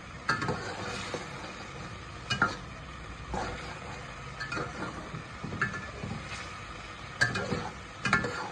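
Chicken pieces stirred and fried in a pan with green chilies, a steady sizzle broken by repeated scraping and clanking strokes of a spoon against the metal, close and fairly loud.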